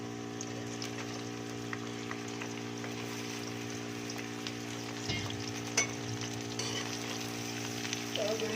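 Okra sizzles in plenty of hot oil in a pan, a faint, even crackling hiss over a low steady hum, with a brief stir-like scrape now and then.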